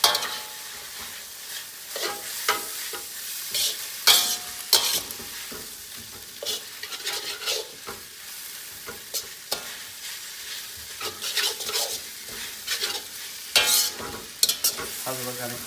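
Chicken chow mein noodles frying in a pan, with a soft continuous sizzle broken by irregular scraping and tossing of a utensil as they are stirred, close up and fairly quiet.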